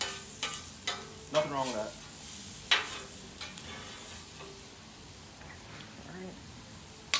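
Peppers and onions sizzle on a griddle under a soft, steady hiss, with several sharp spatula scrapes and taps nearby and a brief voice speaking.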